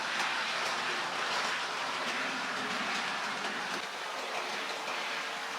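A model railway DMU runs along the track at reduced speed, giving a steady, soft rolling hiss with faint clicking from the rails, continuous and close with no talking.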